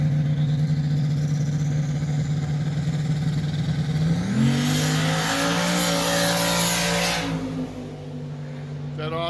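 A drag race car launches off a Pro Tree on a pass, engine droning steadily, then revving higher and roaring louder as it accelerates before easing off near the end.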